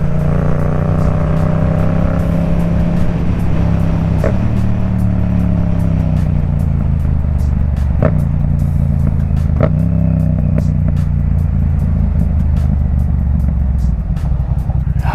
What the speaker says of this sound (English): My chain is so loud.